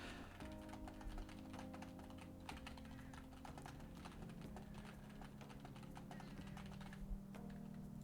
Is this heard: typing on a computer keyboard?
yes